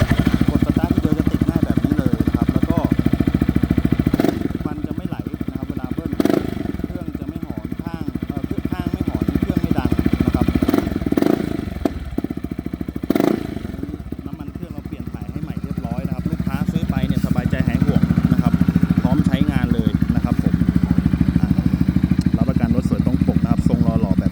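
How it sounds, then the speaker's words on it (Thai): A stock Yamaha XMAX scooter engine runs steadily, a low even hum with a few sharp clicks and knocks, while someone talks over much of it. "เดี๋ยวเรามาฟังเสียงเครื่องยนต์ดู สักหน่อยนะครับ"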